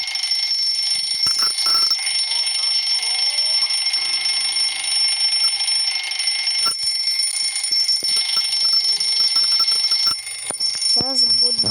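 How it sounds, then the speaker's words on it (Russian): An alarm clock rings inside the video game Metel, its bright sustained ringing tone running steadily through the whole stretch, loud and close, with faint game sounds and a rising chirp near the end. "Так, теперь заводим будильник."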